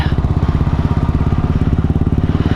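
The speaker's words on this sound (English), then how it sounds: "I don't know if you guys can hear the sound of this exhaust or not" A Bullet motorcycle exhaust thumps at idle nearby, loud and rhythmic with a deep steady pulse and no other sounds.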